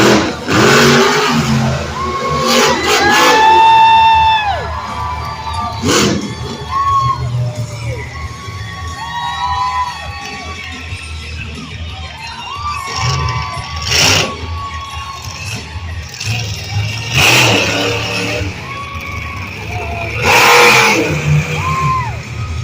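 Double Trouble, a monster truck at the West Coast Monster Truck Finals 2022, revs its engine in rough, loud bursts while a stadium crowd cheers and children shout. The crowd noise swells sharply at several moments.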